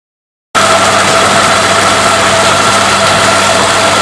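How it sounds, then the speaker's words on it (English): A 6 horsepower Torqeedo boat motor running on a boat, a loud, steady whirring hum with a constant tone, starting abruptly after a moment of silence and continuing without voices. "There's the Torquedo motor, 6 horsepower. And as you see, for such a small package, it sure does put out some waves. You can hear the sound of it."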